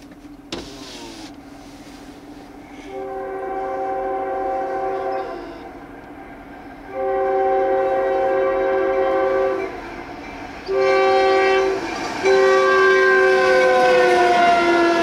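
A CSX freight train sounds its multi-tone chord horn in four long, loud blasts close by, with a steady low rumble from the passing train underneath and no talking.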